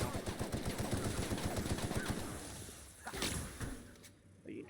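Rapid automatic gunfire in The Outer Worlds video game, a loud dense burst of repeated shots for a few seconds, then a pause and a second shorter volley.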